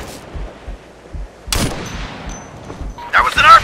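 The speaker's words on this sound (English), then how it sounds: "That was an RPG hit!" An RPG hit blasting in the video game Operation Flashpoint: Red River, a sharp loud explosion amid scattered gunshots, followed by bursts of gunfire and a faint radio-like voice.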